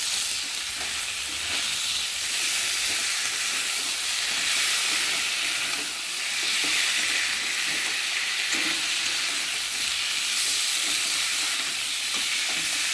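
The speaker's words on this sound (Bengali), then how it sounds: "দিয়ে মশলাটা ভালোভাবে কষিয়ে নেব।" A spice paste of ginger, cumin and onion pastes with tomato and green chili fries in oil for a Bengali fish curry, giving a steady, even sizzle and hiss that runs throughout with faint stirring scrapes.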